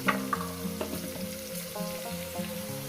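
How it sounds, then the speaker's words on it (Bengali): Chicken fries in a pan for a curry with a steady sizzle, overlaid by a few faint metallic tonal bursts from something nearby, alone with no talk. "ছ সাত মিনিট ধরে আমি এটাকে সুন্দর করে ভেজে নেব"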